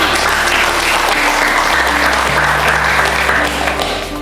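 Loud, sustained applause from a large crowd, a dense wash of clapping that continues throughout and fades slightly at the end.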